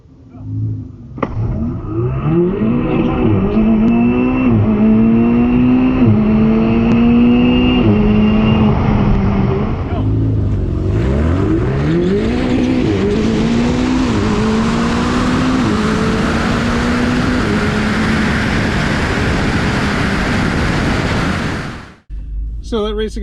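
Ferrari 488 supercar and Tesla Model S drag racing: a loud engine note revs and climbs through rising gear sweeps, drops at a shift, then builds again into a sustained roar before cutting off near the end.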